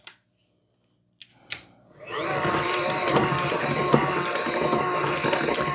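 Carrot cake batter with melted butter is mixed, starting with a couple of faint knocks before a steady, fairly loud whirring and sloshing churn that continues to the end.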